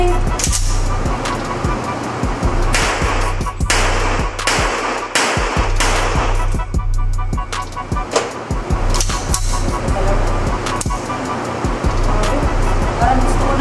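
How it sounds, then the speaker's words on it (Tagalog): Handgun test-fired in a series of sharp, loud shots with irregular spacing, some in quick doubles, over a constant low hum and background noise. "Firing!"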